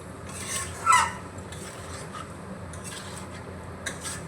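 Whisked yogurt being mixed into potato biryani in a pot with the gas turned off, giving soft intermittent scraping and rasping strokes of a spoon, with one louder scrape early and fainter brushes after.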